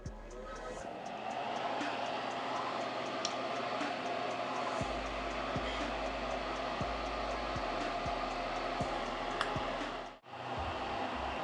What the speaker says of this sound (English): Pardon me while I turn on my fume extractor.